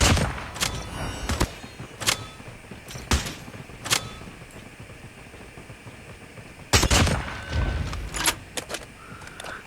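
Gunfire from the SP-R 208 bolt-action sniper rifle in a ranked video game match: several sharp, loud single shots spaced apart, some landing in quick pairs, with small mechanical clicks between them.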